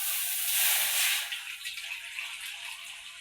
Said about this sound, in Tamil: தண்ணி ஊற்றணும், கொஞ்சம் தண்ணி.